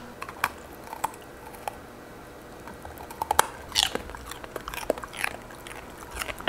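A corgi crunches a treat with scattered sharp bites and crackling chews, close and clear against a quiet room.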